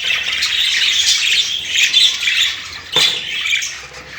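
Budgerigars squawk and chatter continuously in a dense, busy flock in breeding cages, loud and close, with a sharper burst of calls near the end.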